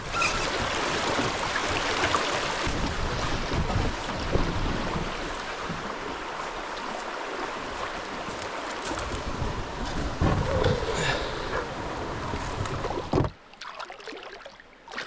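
A canoe paddled near the rocky shore of a small island in wilderness water, with steady splashing and water wash under wind noise before the sound cuts off near the end.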